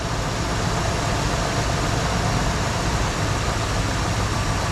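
A 1974 Ford Bronco engine idles loud and steady without a break, rough and rumbling, heard up close with no voices.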